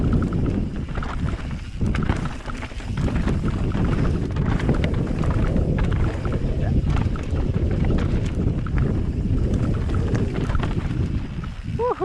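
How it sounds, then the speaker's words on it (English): Steady wind buffeting a GoPro Hero 7 microphone outdoors in a light breeze, a dense continuous rumble and hiss that stays loud and unbroken throughout, with no clear voices. "It's not too windy today. It's got just a light breeze."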